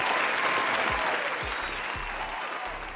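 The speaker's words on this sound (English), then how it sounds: "Let me give you an applause" Applause for a guest on a podcast set, a dense burst of clapping that stays fairly loud and eases off slightly, with a few low thumps underneath.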